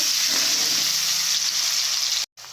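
Onions frying in a pan for a meat curry, a loud, bright, continuous sizzle heard up close that cuts off abruptly near the end before a faint return.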